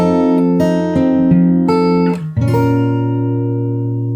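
Fingerstyle acoustic guitar closes a song with a few picked notes across the strings, then a final chord rings out and slowly decays, close and clear with no voice.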